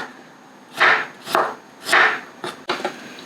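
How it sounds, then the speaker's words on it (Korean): A knife slices through half an onion on a cutting board for a spicy marinated crab sauce, five crisp close chops in an uneven rhythm, the last two quicker, with no talking. "양파 반은 썰어서 넣어줄 거예요"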